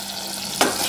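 Beef frying in a little oil with a short stir, a steady sizzle broken by one quick scrape near the end.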